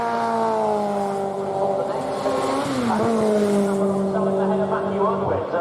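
750 Formula race cars at Cadwell Park, a loud, steady engine drone with a clear pitch rising and falling as the cars work through the gears and chase one another, heard under a race commentator's voice.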